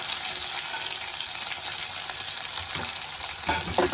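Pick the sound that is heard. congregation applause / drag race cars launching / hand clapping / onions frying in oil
onions frying in oil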